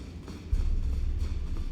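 Horse hooves clip-clop at the stables in Elden Ring with the Convergence mod, a low, steady thudding of steps that grows louder halfway through and continues close by without any talk.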